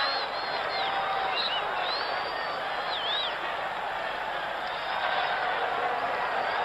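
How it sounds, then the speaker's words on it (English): A football crowd in Philadelphia cheers at a 1976 bicentennial cup match between America and England, a broad, steady roar from a distant stadium full of people with a few whistles rising above it. "Well, that's cheered up the crowd in Philadelphia"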